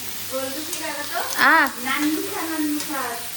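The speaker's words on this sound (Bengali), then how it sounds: "ক্যাপসিকাম, গাজর, বিনস, পেঁয়াজ, লঙ্কা সব কিছু দিয়ে আগে ভাজা ভাজা করে নিচ্ছি।" Capsicum, carrot, beans, onion and chilli fry together in a pan with a steady close sizzle, while a voice murmurs faintly over it.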